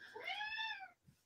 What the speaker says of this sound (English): I can't deal with you meowing, Pinocchio.